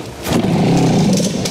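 A superkart engine fires and catches, giving a short, rough, raspy rumble that holds steady and loud at close range.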